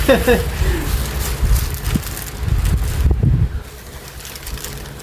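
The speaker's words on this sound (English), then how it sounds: "It's getting windy here." Gusty wind buffets the microphone outdoors, a low rumbling roar that swells and fades, with brief bird calls near the start.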